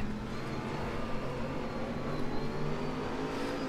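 A continuous race car engine drone in the RaceRoom Racing Experience video game, with a slight wobble in pitch, steady and unbroken for a few seconds.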